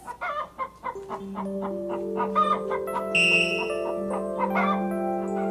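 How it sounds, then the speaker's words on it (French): A hen in an animated children's tale about a hen that lays golden eggs gives a few quick clucks at the start, then music takes over and holds to the end. "Regarde, maman, cette poule est extraordinaire. Écoute, poule, pond un œuf."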